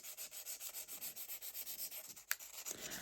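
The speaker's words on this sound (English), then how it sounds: "sort of sand along here" Hand sanding of a chipped ceramic mug's repair, rhythmic back-and-forth rasping strokes about six per second, close and even, broken by one sharp click near the end.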